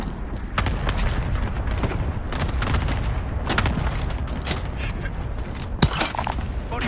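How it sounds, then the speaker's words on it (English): Cluster strike explosions in Call of Duty, a dense run of booms and rumbling blasts layered over one another, loud and continuous with sharp impacts throughout. "Allied cluster strike inbound."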